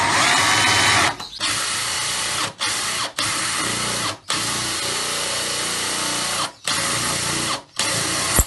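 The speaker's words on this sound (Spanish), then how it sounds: "Para hacer un agujero en un bote de cristal se necesita un sargento, un taladro con un broca de diamante." Diamond-tipped bit drilling into a glass jar held in a clamp, with the jar taped over; a steady loud high grinding whine runs close by in several long bursts separated by brief pauses, with no voices.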